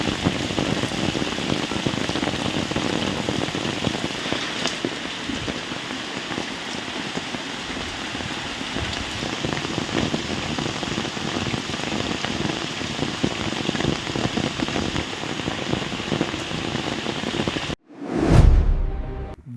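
Rain falls in a dense, steady hiss close by in Dabhoi, unbroken for most of the stretch before cutting off abruptly near the end.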